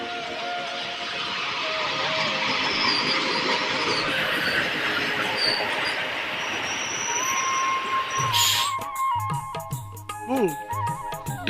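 A train pulls into a station, a sustained loud rolling roar with a high whistle-like tone, ending in squealing brakes and clanks as it slows.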